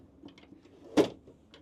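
A small drawer in a 2025 Crusader Musketeer Warrior off-road single-axle caravan slides open with one sharp, close knock or clack, surrounded by faint light rustling in a quiet interior.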